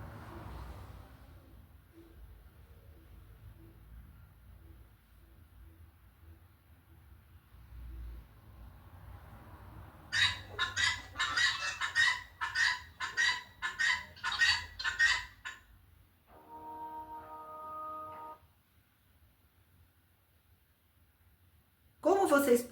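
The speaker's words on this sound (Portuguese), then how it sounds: "eu vou colocar agora para vocês ouvirem o canto da galinha de Angola fêmea." A female helmeted guineafowl gives a series of rapid, harsh, rhythmic two-part calls, repeated several times at close range, after a stretch of quiet background and speech.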